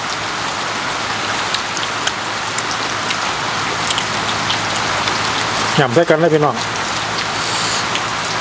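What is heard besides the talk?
rain falling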